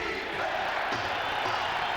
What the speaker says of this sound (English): if you listen carefully, you can hear the roar of the crowd as they cheer on the Buffalo Bills